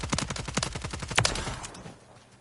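Rapid automatic gunfire from a weapon in Call of Duty: Modern Warfare III, a fast steady burst of close, punchy shots that stops and trails off into a short fading tail.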